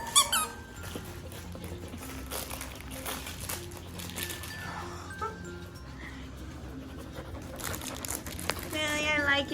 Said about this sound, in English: It crunches and it squeaks.